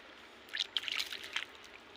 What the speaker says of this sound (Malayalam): മിക്കീന്ന് നമ്മൾ വെള്ളം കോരി ഒഴിച്ചു കൊണ്ടിരിക്കുകയാണ്